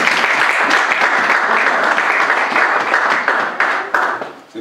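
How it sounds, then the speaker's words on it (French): Congregation applauding in a church service, dense sustained clapping from many hands, loud and close, tapering off at the end. "Acclamons la parole de Dieu."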